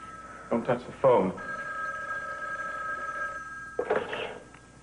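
A telephone bell rings in a drama scene, a sustained ring of about two seconds heard clearly under the room's quiet tone, with people talking just before it and again right after it stops.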